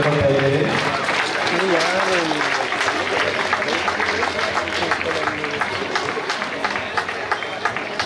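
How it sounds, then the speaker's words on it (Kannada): Students at a teachers' tribute programme clapping loudly in a dense, continuous burst while a voice speaks over the applause, which fades slightly toward the end. "ಜೋರಾಗಿ ವಿದ್ಯಾರ್ಥಿಗಳು ಜೋರಾದ ಚಪ್ಪಾಳೆಯಲ್ಲಿ ತಮ್ಮ ಪ್ರೋತ್ಸಾಹವನ್ನು ಕೊಡ್ತಾ ಇದ್ದಾರೆ"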